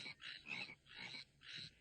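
Frogs croak in a cartoon, a soft rhythmic series of four raspy croaks in even succession, fairly faint and without speech.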